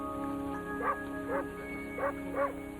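A dog barks four times in short, evenly spaced yips, fairly faint, over a steady hum and tonal background in an Irish setting.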